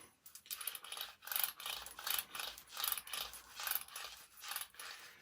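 Brass .308 Winchester cartridge cases roll back and forth on an oiled paper towel, making faint, rhythmic metallic clinking and rattling in repeated waves, close by with no speech.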